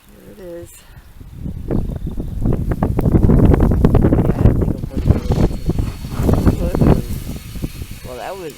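A strong gust of wind during a January 2016 snowstorm buffets the microphone, rising into a loud, rushing roar before easing off, with some voice-like sounds around it.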